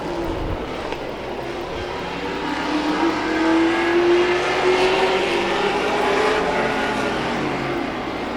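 Race cars speed around the track during a feature race, a loud engine drone that slowly rises in pitch as the cars come closer, swelling in the middle and easing off slightly.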